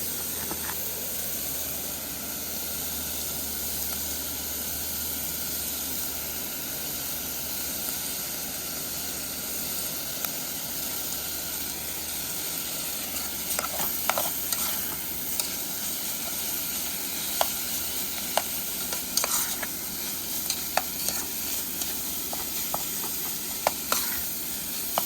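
Chopped bacon fries in a pan at a car-camping breakfast, giving a soft steady hiss with scattered light pops and crackles that become more frequent toward the end.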